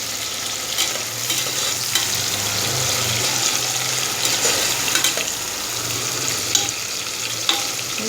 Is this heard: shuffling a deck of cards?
no